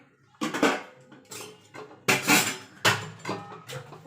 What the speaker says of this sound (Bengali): একটা কড়াই বসিয়ে দেব